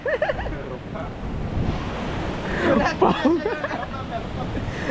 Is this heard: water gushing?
yes